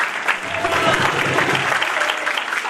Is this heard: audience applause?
yes